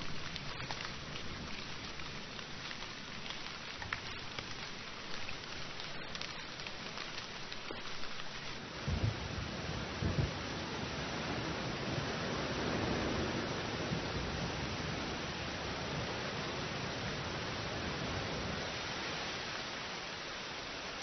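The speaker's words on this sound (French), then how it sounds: "Le nid des aigrettes est à nouveau pris dans la pluie torrentielle." Torrential rain pours over a mangrove forest where egrets nest, a dense, steady hiss of downpour that swells slightly midway and continues unbroken.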